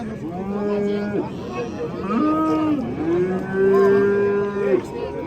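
Cows in a dairy herd with calves moo in long, loud, drawn-out calls close by, two or three lowing bellows in a row with no talking.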